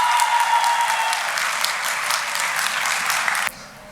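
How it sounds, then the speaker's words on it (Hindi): Sustained audience applause for a speaker at a student talk on peace and harmony, dense, even clapping from a large crowd that holds steady for about three and a half seconds, then cuts off abruptly into near silence. "So a huge round of applause for Ms."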